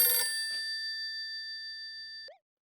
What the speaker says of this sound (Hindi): जेठालाल फोन उठाओ, अगर इसकी बैटरी भी चली गई ना तो लेने के देने पड़ जाएंगे।